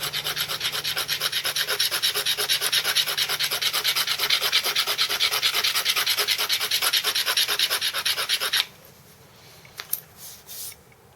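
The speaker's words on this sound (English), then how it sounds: "I'm going to go ahead and start just scraping and nailing some of the high points on this" Steady rhythmic rasping strokes from scraping an elk antler with sandstone run for about eight seconds and then stop, leaving a few faint scrapes and taps.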